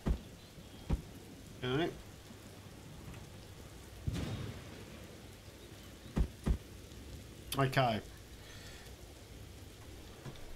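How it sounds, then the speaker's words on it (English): Rain falls in the survival video game Empyrion Alpha 9 as a faint, steady hiss in the background. Scattered knocks and clicks interrupt it, and a person briefly speaks a couple of times. "So we're out of the rain at least, keeping dry."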